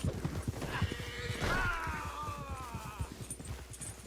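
A Tennessee Walker horse in the game Red Dead Redemption 2 clip-clops along in a steady rhythm of hoof falls, with a brief whinny-like tonal call in the middle over a continuous background.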